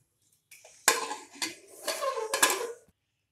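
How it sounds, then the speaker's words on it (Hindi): Putting the metal lid onto a pressure cooker holding suran (elephant foot yam) and water gives several sharp clanks and scraping rattles, close and with no talk. "पानी डालने के बाद हम ढक्कन लगा देंगे।"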